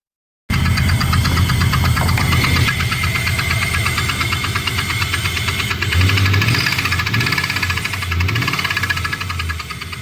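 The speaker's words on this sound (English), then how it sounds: "as you can see, the engine was definitely ticking" An LS-swapped OBS K2500 truck engine idles loudly and close, with a rapid, steady metallic ticking running over the engine rumble the whole time.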